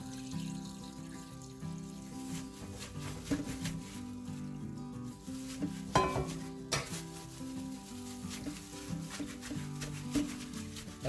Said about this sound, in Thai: ตอนนี้เก๊ก็จะใส่น้ ำข้าวนะคะ ที่เย็นแล้วนะคะ โอเคใส่ลงไปเลย จนท่วมนะคะ